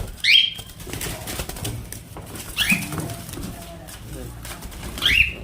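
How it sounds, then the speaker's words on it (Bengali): Newly hatched pet birds sit together in a cage, giving three short, sharp calls spaced a couple of seconds apart over faint rustling and a low background hum, nearby. "এই যে ডিম পেড়ে যে নতুন নতুন পাখি হয়েছে, আরও এই যে খাঁচার মধ্যে সব একসাথে বসে রয়েছে।"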